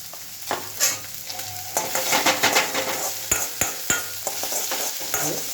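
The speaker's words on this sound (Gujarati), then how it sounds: "ફ્લેમ તેજ મીડિયમ કરી અને ટમેટા કૂક થવા દઈશું" Tomatoes sizzle in a pan for restaurant-style aloo gobi made without onion or garlic, with repeated stirring scrapes and sharp utensil taps against the pan over a low steady frying hiss, close by and without speech.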